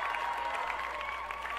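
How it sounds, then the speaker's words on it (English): An audience gives a guest a round of applause on a broadcast show, with steady dense clapping held at an even level from start to finish and no talk over it. "Ladies and gentlemen, give him a round of applause."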